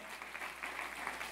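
Continuous clapping from a church congregation, fairly soft and steady, with bursts of louder claps throughout.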